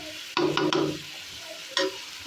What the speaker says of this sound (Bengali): আর এইখানে হলো এই যে মাংসটা কষাই দিতেছি